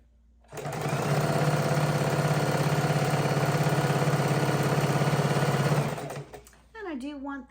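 A sewing machine stitches a baby quilt border, humming in one continuous close run for about five seconds before slowing and stopping, after which a voice speaks briefly.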